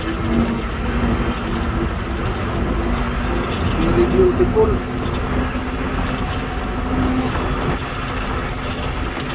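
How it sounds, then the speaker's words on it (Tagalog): Dump truck driving at a quarry, a steady loud engine and road rumble filling the cab, with someone briefly speaking over it. "Ang biyahe ng dump truck."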